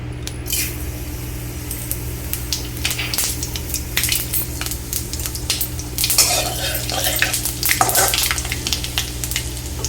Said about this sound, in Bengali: এবার আমি এই সর্ষের তেলে দিয়ে দিব 1 টেবিল স্পুন 5 ফোড়ন।